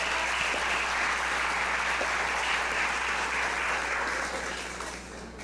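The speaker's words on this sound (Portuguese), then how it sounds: "Pode dar uma salva de palmas ao Senhor?" A church congregation applauds during a sermon, a broad even wash of clapping that stays steady and then fades slightly near the end.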